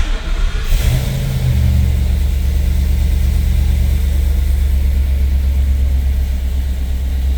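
A custom truck's engine turns over and settles into a steady, loud, close idle that holds evenly to the end, with no voices.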